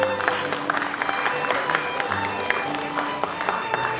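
Applause from the audience at a school's 91st anniversary ceremony after long-service awards are presented, a steady patter of many hands clapping from across the hall at moderate volume.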